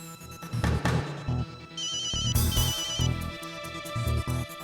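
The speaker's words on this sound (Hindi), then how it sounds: "फोन बज रहा है।" A phone ringtone sounds loud and near, a busy musical ring pattern with repeating bright tones and pulsing beats, playing alone without talk.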